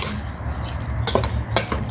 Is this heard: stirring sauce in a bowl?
yes